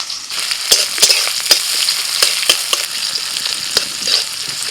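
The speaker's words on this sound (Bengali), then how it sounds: "পেঁয়াজটা একটু ভেজে নিয়ে দিয়ে দিচ্ছি কলমি শাক।" Chopped onion with dried chillies frying in mustard oil in a wok, a steady close sizzle with scattered crackles and pops throughout, no talking.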